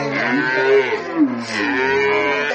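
A Sahiwal dairy cow moos loudly and close by in two long, drawn-out calls at a cattle market, with no talking over it.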